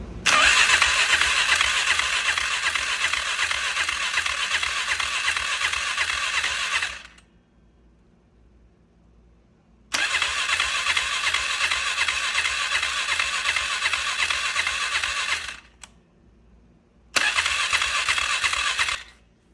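A 1999 Polaris Sportsman 500 ATV engine cranks over and over without catching, its fuel tank off, in three loud, steady bursts of rapid starter churning separated by pauses.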